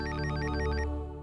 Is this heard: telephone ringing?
yes